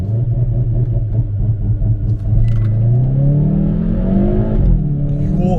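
A Hyundai i30N with a DCT gearbox launches hard under launch control, its engine roaring loud and steady with rising pitch through the pull, one brief dip near the middle, all close and continuous.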